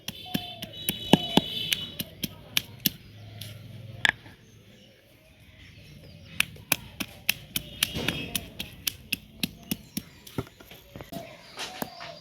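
Raw sour green jujube plums being crushed on a flat grinding stone: sharp, repeated taps and knocks at an uneven rhythm, close and fairly clear over a low background.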